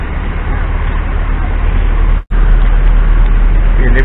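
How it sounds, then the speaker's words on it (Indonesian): A new Mercedes-Benz Transjakarta city bus, its engine and road noise a loud steady rumble heard from inside, broken by one brief dropout, with faint chatter in the background. "ini adalah bis Transjakarta baru ya"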